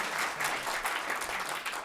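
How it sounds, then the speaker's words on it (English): Audience applause fills a live conversation event honoring a Modern Love stage play, a dense, steady patter of many hands clapping at moderate volume throughout, with no talk over it. "Should we give it a round of applause?"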